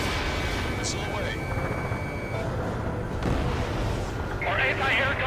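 Missile launch in the Ace Combat 7 combat flight game, a sustained roaring rush layered over dense explosions and battle noise, loud and continuous throughout, with a brief bright whoosh near the end.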